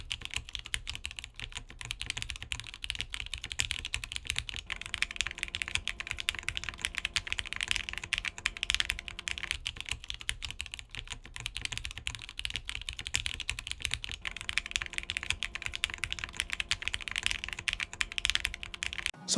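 Continuous rapid typing on a QK80 mechanical keyboard with a taped flex-cut PCB, dense clacky keystrokes running without pause, close up and fairly loud.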